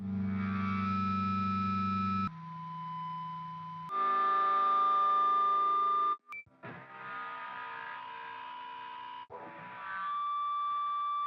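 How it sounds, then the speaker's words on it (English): Sustained, shifting guitar feedback tones ringing with distortion, several held pitches changing abruptly in sections, one brief dropout midway. "The feedback is going to sound like this."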